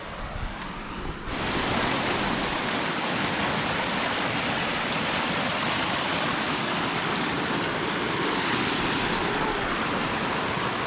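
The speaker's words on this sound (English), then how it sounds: "I could hear the falls up in the other direction" Rushing water from a waterfall and river pours over rocks in a loud, steady broadband roar that swells in after a quieter first second and holds unbroken, with no voices.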